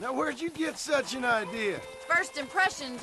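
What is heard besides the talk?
No everyday noises stand out.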